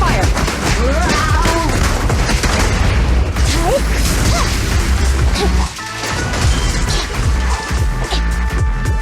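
Sustained gunfire and crashing impacts from combat in Zenless Zone Zero while defending an evidence vehicle in a Hollow, loud and dense for most of the stretch, with brief breaks and voices mixed in.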